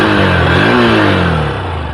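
A Honda Hornet 2.0 motorcycle engine revs loudly, pitch rising to a peak then slowly falling back, a deep throaty exhaust tone throughout with no talking.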